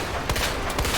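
Rapid bursts of gunfire in the Resident Evil 2 co-op final fight against Birkin, several loud shots in quick succession over about a second, with no speech.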